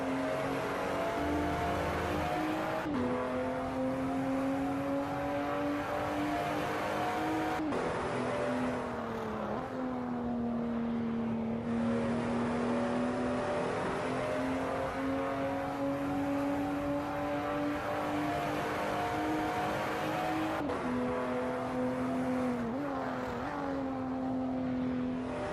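A race car in a sim racing game at Spa holds a steady high engine note, rising and dropping sharply at several gear changes.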